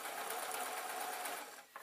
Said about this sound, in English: hopefully I can just sew through